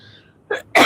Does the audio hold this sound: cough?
yes